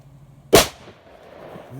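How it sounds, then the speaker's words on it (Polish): A heavy F3-category firecracker bursts in one loud, sharp bang, followed by a brief fading rumble outdoors, with no talk during the blast. "No, to była petarda."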